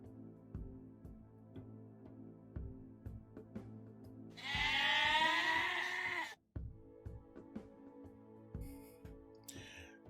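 Goat bleat sound effect, one loud wavering bleat of about two seconds standing out over quiet background clicks and hum, with a brief second burst after.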